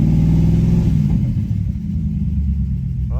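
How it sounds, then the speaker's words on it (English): Car engine idling with a sticking hydraulic lifter, a close, steady low rumble that settles after a brief higher rev at the start, with no talk. "That sounds like a sticking lifter up there."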